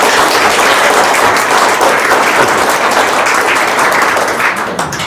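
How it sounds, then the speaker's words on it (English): A conference audience at an entrepreneur meetup bursts into loud, sustained applause, a dense wash of many hands clapping at once that holds steady throughout and eases only slightly at the very end. "please give him a big round of applause"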